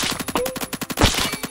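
Rapid automatic gunfire in the Roblox shooter Phantom Forces, a fast even burst of about a dozen close, sharp shots, loud with no voices.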